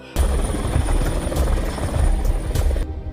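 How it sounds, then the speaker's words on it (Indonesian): A helicopter passes overhead with a loud, rhythmic rotor thump and engine whine, holding steady for about three seconds before cutting off abruptly. "There are 3 choppers. One above us."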